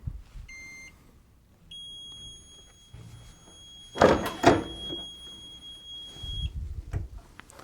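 A heat press timer gives a steady electronic beep for several seconds while a couple of heavy clunks and some handling noise occur nearby.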